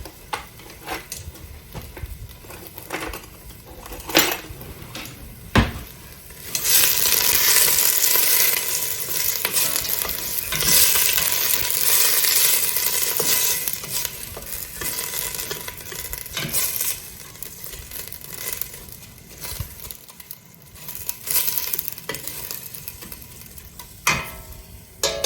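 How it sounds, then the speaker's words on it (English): Home-grown garden onions sautéing in a pan give a steady close sizzle that swells into a loud hiss midway, with scattered scrapes and clinks of a utensil stirring and no talking. "So we're gonna saute these up"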